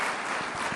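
A crowd at a Chicago business and economic forum gives a standing ovation, producing a dense, steady wash of applause that fills the brief moment without any single clap standing out.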